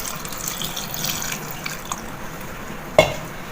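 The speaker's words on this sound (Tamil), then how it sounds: "இதுலேயே இப்போ வந்து நம்ம தண்ணியை புதுசாக தண்ணி ஊற்றிக்கலாம்." Fresh water poured into a bowl of cut potatoes for chips gives a steady wash of splashing, ending in one sharper splash near the end. No one speaks.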